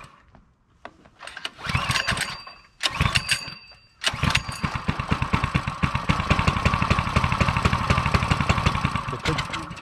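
Small engine of a Coleman CC100X mini bike sputtering through a couple of start attempts, then catching and running with a loud, rapid, close putter.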